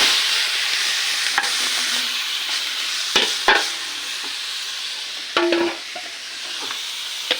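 Chopped onions and tomatoes frying in oil alongside fried fish in a pan, a steady sizzle broken by a few sharp stirring scrapes and clatters.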